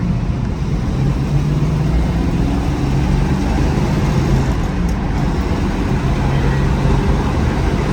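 A 1968 Shelby GT350 with a four-speed pulls through second gear, its engine a continuous low rumble blended with road and wind noise from inside the car, steady and fairly loud, without speech.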